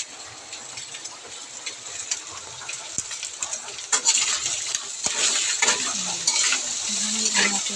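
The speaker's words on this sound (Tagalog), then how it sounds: "Lutuin natin muna yung squid ball." Squid balls fry in a hot pan for pancit, a bright crackling sizzle with metallic scrapes and clinks as they are stirred, growing louder and busier toward the end.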